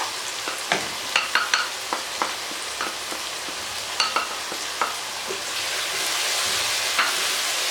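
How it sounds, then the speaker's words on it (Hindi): Tinda (apple gourd) fries in a pan, a steady oily sizzle broken by frequent sharp crackles and pops that ease into a smoother hiss toward the end, heard alone without voices. "2 मिनट हो गए हमें टिंडों को फ्राई करते हुए"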